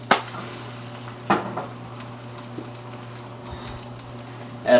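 An omelet is flipped in a hot frying pan, giving a brief loud slap and hiss at the start, then a steady soft sizzle, a second clatter about a second later and another burst of sizzling at the end.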